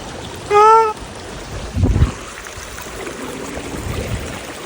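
Floodwater pours across a damaged road, a steady broadband wash running throughout, broken early by a short high tonal chirp and then a single dull thump.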